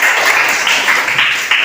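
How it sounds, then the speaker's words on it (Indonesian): Pupils applaud in a classroom during a lesson: a short, loud, close burst of many small hands clapping together, dense and continuous without pause. "Tepuk tangannya untuk kita semuanya."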